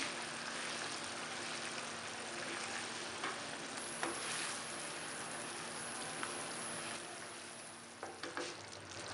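Chickpeas cook in a pan with a steady, close sizzle and frying crackle that runs continuously, with occasional stirring clicks and scrapes, and no talking.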